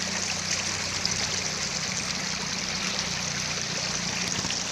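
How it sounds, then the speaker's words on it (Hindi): Water rushes and burbles steadily in a flowing stream, a continuous close, full sound with no pauses. "ये दे पानी बहत है, पूरा पानी साफ है"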